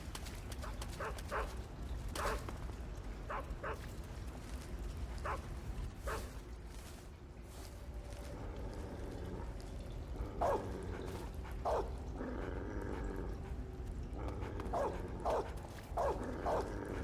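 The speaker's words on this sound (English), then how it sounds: "He's a cute puppy." A dog barks in short, scattered bursts in Metal Gear Solid 3, several yaps spread across a steady game ambience with a low background rumble.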